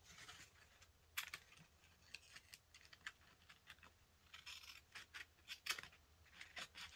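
Scissors snip along the curve of a paper envelope for a junk journal pocket, quiet close crisp cuts and rustles in an irregular rhythm, no talking.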